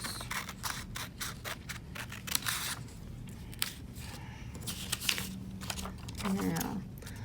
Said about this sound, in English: I'm going to cut like this.